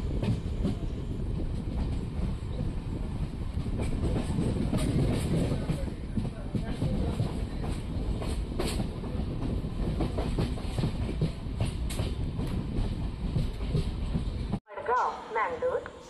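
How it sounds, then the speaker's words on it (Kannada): A Konkan Railway passenger train pulls into Udupi railway station with a steady, close rumble and clickety-clack of wheels on rails, ending in a sudden cut and a brief shift in sound. "ನಮ್ಮ ಟ್ರೈನ್ ಈಗ ಉಡುಪಿ ರೈಲ್ವೆ ಸ್ಟೇಷನ್ಗೆ ಎಂಟ್ರಿ ಆಗ್ತಿದೆ"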